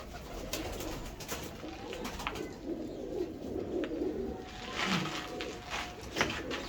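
Pigeons in a coop, including a breeding pair, cooing repeatedly in soft low rolling calls amid light background rustle and faint ambient noise.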